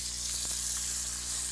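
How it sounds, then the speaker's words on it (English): Deboned goose breasts sizzle in a frying pan, a steady close hiss of spitting fat with a faint low hum underneath and no voices. "I've got a couple of them in the frying pan there"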